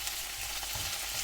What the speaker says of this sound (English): you can hear this just sizzling away